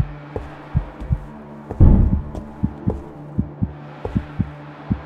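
Heartbeat in the first-person indie horror game Panic on PC: steady low thuds repeating about once per second over a droning hum, with a brief louder rumbling burst partway through.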